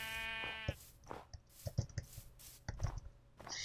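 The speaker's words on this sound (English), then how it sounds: "Sheep are still here." Sheep bleat in a Minecraft game, a harmonic bleat at the start followed by scattered clicks and short in-game sounds, quiet overall with no talk.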